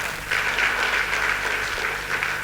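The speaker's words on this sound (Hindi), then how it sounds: "बहुत जोरदार तालियां" A seated audience at a company motivational event breaks into loud applause, a thick, continuous roar of clapping that holds steady from start to finish.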